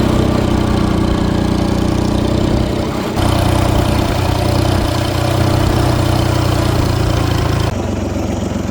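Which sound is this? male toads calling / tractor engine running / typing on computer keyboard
tractor engine running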